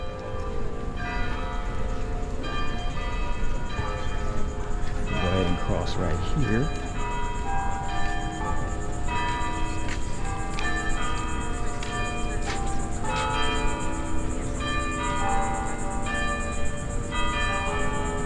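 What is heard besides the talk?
church bells ringing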